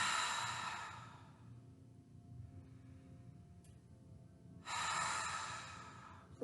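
Long, breathy exhales are pushed out through hands cupped around the mouth during a yoga session, loud and close, with a quiet pause between the breaths.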